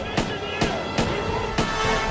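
Four sharp police gunshots aimed at a fleeing car's tires crack at roughly even intervals over a steady rumble of engine and road noise, fairly close and loud.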